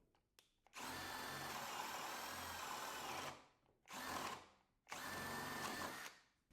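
A Skil 12V PWRCore compact drill whirs up and bores through wood in three sustained bursts, long then shorter, each spinning down between runs, loud and close with no talking.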